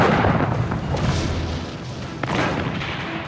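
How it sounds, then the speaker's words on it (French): Massed artillery cannon fire at the opening of the Ardennes offensive, a dense rumbling barrage of booms and blasts that swells and overlaps continuously without a break. "1900 canons ouvrent le feu"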